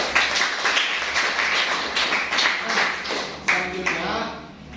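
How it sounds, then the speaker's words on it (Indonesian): A classroom of students claps for their classmates during a lesson, a moderate burst of overlapping clapping with a few sharper taps, steady for several seconds and then tapering slightly. "Tepuk buat teman-temannya."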